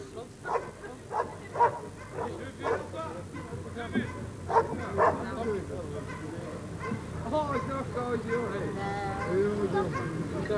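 A dog at a bite-work demonstration barks in a series of sharp, repeated barks and yips, then whines, with people talking nearby and a voice carrying over the later part.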